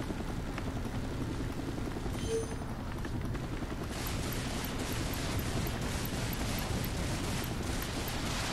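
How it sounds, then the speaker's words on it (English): Attack helicopter in the video game Toy Soldiers: War Chest, a dense continuous roar of rotor and gunfire with explosions layered into the battle noise, louder and brighter after a few seconds. "Hell yeah, my heli is doing heli damage."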